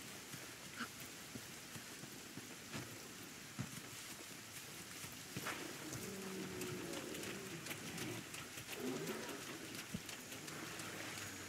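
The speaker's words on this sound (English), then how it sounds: "Kinda wish it rained like this in Rise." Steady rain in the video game Monster Hunter World, a soft continuous patter with scattered droplet ticks, low and even throughout with no voices over it.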